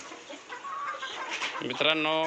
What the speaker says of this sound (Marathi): हे आहेत आपले गावरान पक्षी.